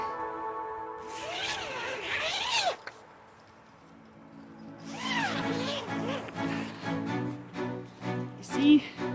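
A zipper on an outdoor shower enclosure is drawn in two long scraping runs separated by a pause, close and fairly quiet, with faint voice-like sounds in the background.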